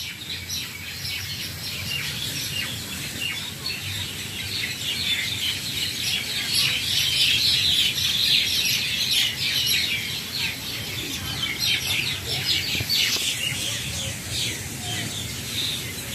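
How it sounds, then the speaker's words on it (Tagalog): Birds singing at an outdoor picnic spot along a corniche, a steady mix of chirps and calls over a busy ambient background, moderately near and continuous. "Mag-enjoy ka sa huni ng mga ibon."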